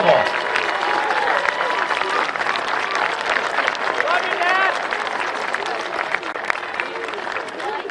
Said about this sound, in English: say thank you and applaud the love and support that made this day possible.